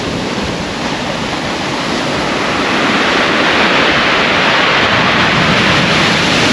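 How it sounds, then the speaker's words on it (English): Huge sea waves, some around fifteen feet, break onto a beach on the Holderness coast at Aldborough, producing a continuous loud roar of surf with heavy wind noise buffeting the microphone. "Biggest I've seen them on the beach, that, absolutely huge waves."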